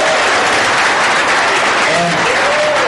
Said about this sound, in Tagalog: Salamat sa mga palakpak nyo.